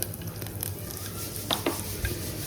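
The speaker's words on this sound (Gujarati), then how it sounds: "તો ચલો દાળ વઘારીએ છીએ. જીરું નાખી દીધું છે" Steady crackling sizzle of cumin seeds hitting hot oil to temper dal, with a few brief clinks of a spoon stirring in the pan.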